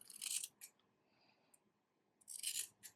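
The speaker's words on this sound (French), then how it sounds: "Alors, je vais couper tout ce qui dépasse." Scissors snip crochet thread in a few crisp, close, quiet cuts, with a short pause of near silence between the first and last snips.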